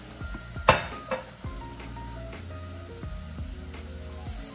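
Mushrooms with mirin cook in a pan on low heat, heard as a faint sizzle under clinks and scrapes of a utensil against the pan.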